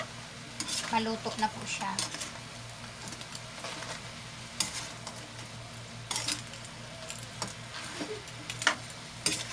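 Chili and crab sauté with string beans in a pan while being stirred, soft scraping strokes over a steady low sizzle, close and quiet, with a few spoken words.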